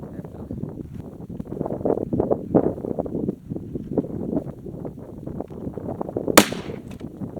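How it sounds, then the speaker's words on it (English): A 300 Win Magnum rifle fired outdoors with 180-grain rounds: one sharp, loud crack near the end, following a stretch of wind noise and people talking. "Now you got your 180 grain 300 Win Magnum, 3200 feet per second."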